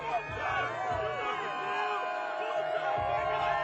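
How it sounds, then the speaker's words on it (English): Crowd of fans at a Chargers football training camp cheering and whooping, a lively babble of many voices with rising shouts, fairly close, with talk mixed in. "Look at this crowd."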